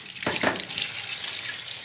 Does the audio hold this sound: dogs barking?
no